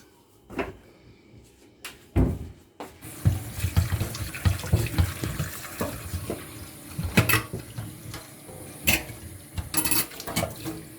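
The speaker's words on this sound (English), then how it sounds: "Take the potatoes out of the water and gently scrub them." Potatoes scrubbed under running kitchen tap water, with a steady stream into the sink, broken by sharp knocks and clatters of handling close by.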